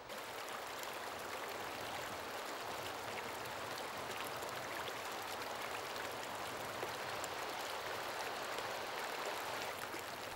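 The River Dove runs through Dovedale gorge in the Peak District, giving a soft, steady, continuous rush of flowing water. It stays even and moderately distant throughout, with no voices.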